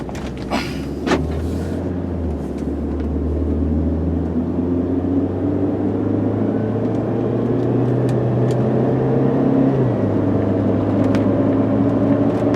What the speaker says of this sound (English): So all I'm going to do is just pull out, get the car up to about 50-55 miles an hour